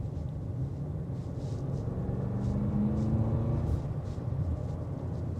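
A 2026 Audi SQ7 cruises at about 40 mph, its engine and turbos giving a quiet, steady low rumble with faint whooshing, no talking.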